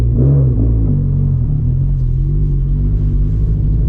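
Loud, close engine of a turbocharged 2013 Scion FR-S with a straight-pipe exhaust, roaring steadily as the car accelerates, with a deep, continuous rumble throughout.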